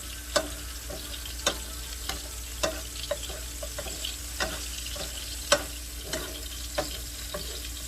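White bass fillet frying in browning butter in a pan, a steady close sizzle broken by sharp spoon clicks and taps about every second.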